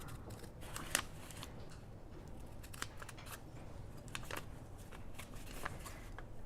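Scissors trim small corners off material for decoupage, a string of close, crisp snips scattered over a steady low background hiss.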